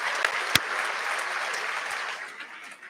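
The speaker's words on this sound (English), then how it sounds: "We got to give a round of applause to all of our family and friends who have been with us the whole time." Graduates and guests at a 2024 CT State Middlesex graduation ceremony applaud family and friends with steady, broad clapping from a large crowd, one sharp nearby clap standing out early before the sound tapers off.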